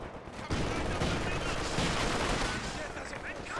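Machine gun fire with incendiary rounds during a Company of Heroes 2 2v2 match: dense rapid bursts of gunfire crackle continuously, with battle noise layered underneath and a commentator's voice faintly present.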